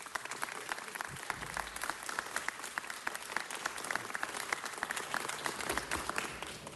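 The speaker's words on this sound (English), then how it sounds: "Let's give him a big round of applause" A meeting audience gives a sustained round of applause for a retiring deputy director of planning, dense even clapping filling the room throughout.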